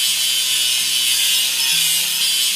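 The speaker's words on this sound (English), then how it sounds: "Let's grind the welding seam." In a kids' video game, a grinder works a welding seam on a track laying machine, giving a continuous bright, hissing grinding noise with faint shifting tones beneath, steady and loud throughout.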